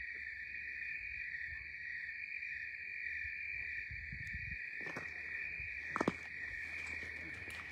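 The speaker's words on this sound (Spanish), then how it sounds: "Esos sí son pájaros." Night ambience with a steady high insect trill, soft hooting bird calls in the background, and a couple of sharp clicks partway through.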